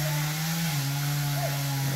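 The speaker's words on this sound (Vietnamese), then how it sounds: "Mình kiếm cái máy cưa, mình quay cái máy cưa của ảnh nha các bạn." A chainsaw, a Fukawa model, runs at a steady high-pitched whine while cutting a large mango tree outdoors, loud and continuous with a slight pitch dip partway through.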